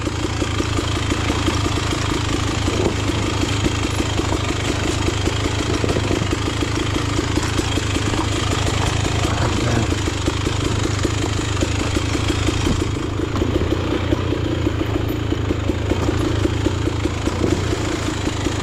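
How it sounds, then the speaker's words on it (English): A Beta XTrainer dirt bike engine runs at a steady idle, a loud, even, throbbing mechanical chug with light clatter that holds throughout without revving and with no talk. "I don't want to drop the bike"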